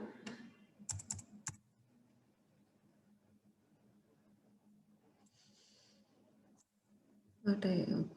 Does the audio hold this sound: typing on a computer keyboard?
yes